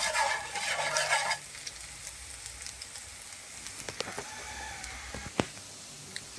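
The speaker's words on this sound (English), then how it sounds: "stir fry them a little bit, guys. Giving them a nice stir fry color." Shrimp being stir fried in a pan for curry shrimp: a loud broadband sizzle for the first second or so, then a softer, steady fry with scattered clicks and scrapes of stirring and one sharp tap near the end.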